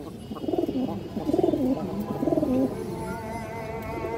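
Pigeons from an old bloodline, kept for high flying, coo nearby in three rounded, rolling phrases spaced about a second apart, then fall quiet against a soft background hum.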